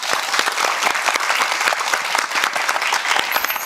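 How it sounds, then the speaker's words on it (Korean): A studio audience on the Korean quiz show Jang-hak Quiz breaks into lively applause, many sharp claps merging into a continuous, fairly close burst. "박수로 청해보겠습니다"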